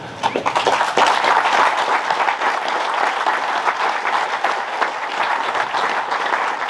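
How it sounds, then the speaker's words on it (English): A dense round of audience applause for board members at a field day event, with many hands clapping steadily and loudly throughout and no break. "If you would stand up and let everybody give you a round of applause,"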